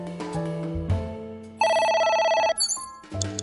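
An electronic telephone ring cuts in over background music, a rapid trilling tone lasting about a second before stopping, with brief synthetic tones following.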